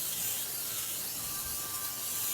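Butter-flavored cooking spray hissing from a can onto chicken, a continuous close airy spray with no pauses.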